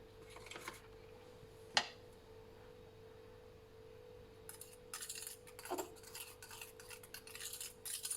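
A spoon stirs a herbal anti-itch ointment mixture in a small container, giving faint, close clinks and scraping taps, sparse at first and then in quicker irregular bursts over a low steady hum.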